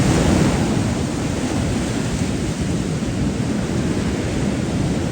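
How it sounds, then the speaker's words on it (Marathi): A rough, storm-churned sea roars continuously with loud, dense crashing surf and wind-driven rumble, constant and close, with no voices. "ही बघा इथे एवढा समुद्र खवळलेला आहे"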